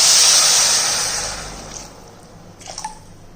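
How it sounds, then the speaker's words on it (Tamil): Water poured into a pan of sautéed vegetables on a medium stove makes a loud broad hiss and sizzle that fades over a couple of seconds, followed by faint bubbling and small clinks. "இப்போ இதில் நம்ம வேகிறதுக்கு கொஞ்சம் தண்ணி விடுவோம்."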